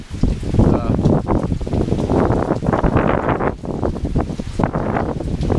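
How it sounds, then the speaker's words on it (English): Gusty wind blows outdoors in a bee yard ahead of a hurricane, rough rumbling buffets hitting the microphone in uneven surges, close and fairly loud throughout. "a little wind going on, nothing big yet"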